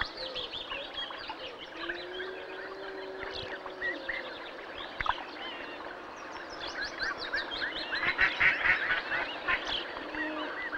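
Agitated duck calls, repeated honking quacks rising in intensity with birdsong chirps around them, fairly close and steady.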